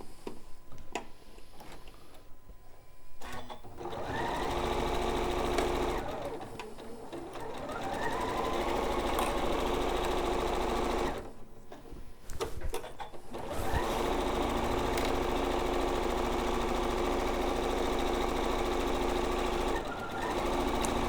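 A domestic sewing machine stitches a butterfly garden quilt in steady bursts of fast, even needle clatter, stopping briefly twice between runs, loud and close with no talk.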